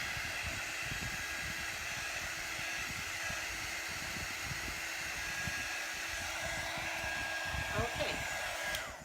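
A hair dryer blows steadily on a paint transfer, a continuous close, loud whooshing hiss of air and motor hum that runs unbroken throughout.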